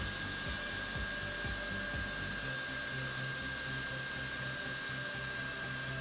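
A hot air plastic welding gun warms its tip on sheet material, giving a continuous, fairly quiet blower whoosh with a steady hum and no voices.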